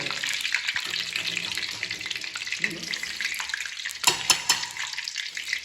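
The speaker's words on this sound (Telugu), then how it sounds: "దొండకాయ నాకు తెలిసిన స్టైల్లో ఇది ఫ్రై అనమాట" Ivy gourd (dondakaya) fries in a pan with a constant low sizzle and intermittent stirring scrapes, ending in a louder burst of clattering near the close.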